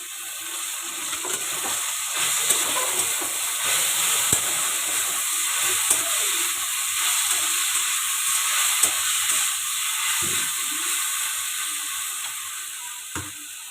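A steady hiss and sizzle of paste frying in a hot pan, with occasional scraping and clicking as it is stirred.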